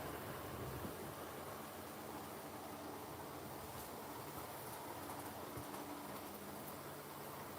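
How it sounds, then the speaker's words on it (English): A Hornby model railway train runs steadily over rail joints, giving a faint, continuous rolling rumble with soft repeated clicks throughout, no voices present. "Love the sound that the trains make as they go over joints, the rail joints."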